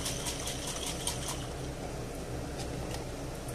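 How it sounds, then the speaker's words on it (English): Water sloshing as a jar is shaken hard, a steady continuous rattling swish close by with no voices, while tomato sauce is being made for a chickpea meatball dish. "I'm just going to add a bit of water there because there's loads left. And we'll give it a good shake."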